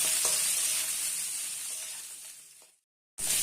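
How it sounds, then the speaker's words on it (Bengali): Pointed gourd (potol) fries in oil with a bright, steady sizzle that slowly fades, cuts to silence briefly, then resumes loudly. "পটলগুলো ফ্রাই করা হয়ে গিয়েছে,"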